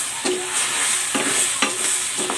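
A spoon stirs garlic chicken soup in a pot, scraping stuck bits off the bottom in four or five quick scrapes over a soft sizzle, close and alone.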